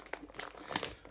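Plastic packaging on a health food bag crinkles and crackles in short bursts as it is worked open, close and fairly loud, with no talking.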